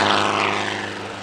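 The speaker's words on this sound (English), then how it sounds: "Flying Otto the helicopter, the heavily modified Schweitzer 300 he purchased from the late Roger Buis in 2016" A heavily modified Schweizer 300 helicopter thrown through aerobatics at an air festival, its engine and rotor a steady, fairly loud drone with rhythmic rotor chop, fading slightly toward the end.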